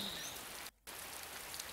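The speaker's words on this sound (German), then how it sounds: "Heute stehst du ausnahmsweise mal im Regen" Steady rain hisses in a horse-riding video game, a continuous soft wash of falling drops that briefly cuts out for a moment before resuming.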